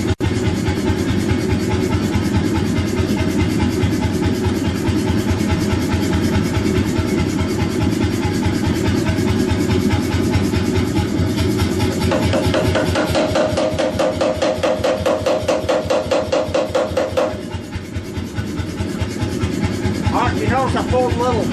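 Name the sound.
Anyang power hammer forging a steel blade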